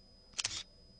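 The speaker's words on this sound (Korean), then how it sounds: "이거 셔터 소리란 말이야." A Contax G2 film camera fires once with a crisp, close mechanical shutter click, made of two quick clacks and a short whir, in a quiet room.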